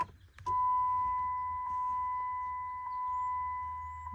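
A car chiming after the ignition is switched back on during ECU tuning: a steady electronic tone sounding continuously for several seconds, with a few brief pulses and a faint click at the start.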